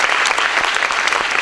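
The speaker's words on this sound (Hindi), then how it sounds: "तो अपने लिए सबसे पहले जोरदार ताली हो जानी चाहिए दोस्तों।" Loud, sustained applause from a seminar audience, a dense steady patter of many hands clapping close by, filling the whole short stretch without voices.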